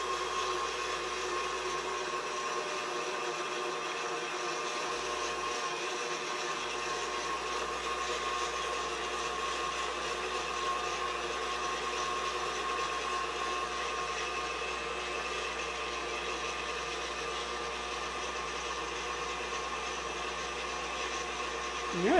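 An electric stand mixer gives chocolate Guinness cake batter a final spin, a steady, even whir running loud and unbroken for the whole stretch with no talk over it.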